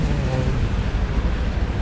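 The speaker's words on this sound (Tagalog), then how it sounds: "ang lakas pa ng hangin" Strong wind by a bridge over the Pasig River buffets the microphone in a dense, continuous roar with gusty low rumble and no pause.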